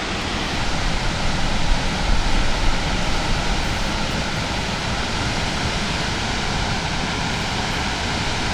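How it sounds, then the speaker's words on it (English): Rainbow Falls near Mammoth Lakes, heard from the overlook as a constant, dense roar of falling water, steady and loud throughout, with no voices over it. "It's a nice waterfall there."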